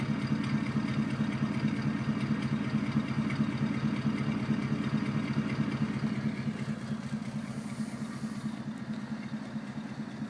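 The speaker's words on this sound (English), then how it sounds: "let you listen to it idle. Got a good smooth idle to it." A 1941 Cadillac 62 sedan engine idling smoothly, heard from the rear of the car as a steady, even low rumble with a faint mechanical clatter, continuous and fairly close.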